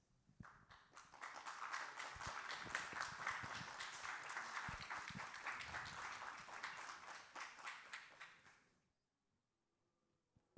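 Audience in a TV debate studio applauding a question, a burst of clapping that swells, holds for several seconds and then stops abruptly, leaving near silence.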